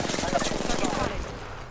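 Rapid automatic gunfire in Apex Legends, a dense burst of regular shots close and loud for about a second, then tailing off into a quieter rumble.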